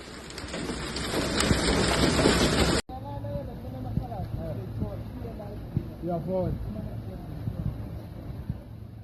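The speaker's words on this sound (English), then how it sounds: "The sound of hailstones drumming steadily against metal rang out across the busy highway." Hailstones drum densely against metal in a hailstorm on the N1 highway near Midrand, Johannesburg, a loud, steady broadband clatter for about three seconds before cutting to a quieter, rain-like background where people talk.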